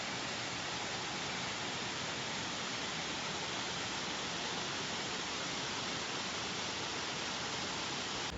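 The Sofia waterfall in the Dolomiti Bellunesi National Park roars as a steady, dense rush of falling water that stays constant and fills the whole clip, with no voices over it.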